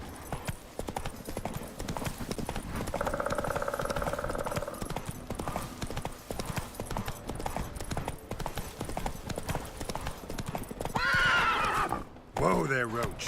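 Roach, a horse in the video game The Witcher 3, gallops in a steady clip-clop rhythm, with a clear neigh partway through and another whinny near the end, under occasional game sounds and some talk.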